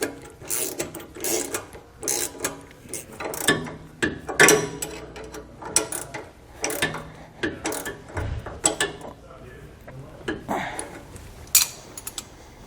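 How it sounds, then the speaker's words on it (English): Wrenches snug up the sway bar end link hardware on a 2016 Ford E-Series, giving repeated quick ratcheting clicks in short bursts with small metallic clinks in between, close by and fairly quiet. "we can grab our wrenches and snug everything up."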